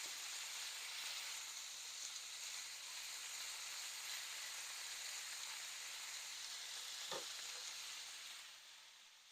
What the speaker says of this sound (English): we're going to brown our meat on all sides